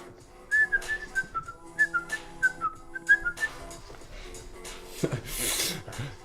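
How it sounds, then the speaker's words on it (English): A person whistles a short, lilting tune of quick rising and falling notes, ending with a brief burst of rustling noise. "I have to say, you whistle an awful lot."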